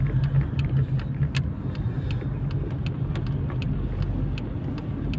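A blue car driving along a road, a steady close engine and tyre rumble from inside the cabin with faint ticking clicks scattered over it and no voices.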